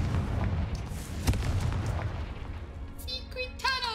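A Confringo spell explodes in a spider cave in Hogwarts Legacy, a booming burst with a rumbling low tail that fades over a few seconds, with a brief voice near the end.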